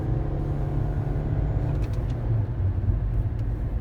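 A Toyota Prius Prime cruises in gas/hybrid mode, its engine and road noise forming a steady low hum and rumble heard from inside the cabin, with no talking.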